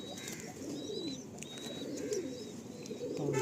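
Domestic pigeons kept at home coo softly in the background, low murmuring calls repeating under faint chirps and ambient noise, fairly quiet and without talk.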